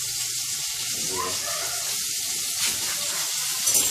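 Curry frying in a pot with mango, scallion, garlic and thyme, giving a steady close sizzle and hiss with faint stirring clatter throughout and no talking.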